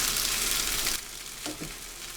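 Chow mein noodles stir-fried in a hot pan: loud, dense sizzling for about a second, then a quieter crackle with a couple of soft scrapes as the noodles are tossed.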